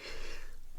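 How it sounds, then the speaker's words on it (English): A single sharp, loud cough bursts out at the very end, close to the mic, after a stretch of quiet breathy background. "forgive me for coughing all over you."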